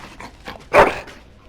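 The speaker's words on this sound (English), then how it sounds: "Bloody dog." A dog in the Dragon Age Origins video game gives one loud, sharp bark near the middle, set against quiet background ambience.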